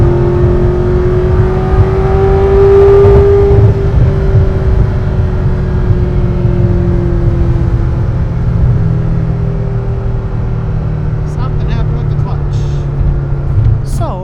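Loud Ferrari F40 LM engine of over 700 horsepower droning close by, stuck in second gear, its pitch climbing briefly then sagging slowly as it cruises.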